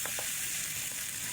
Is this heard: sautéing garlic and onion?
yes